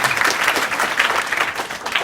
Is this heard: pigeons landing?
no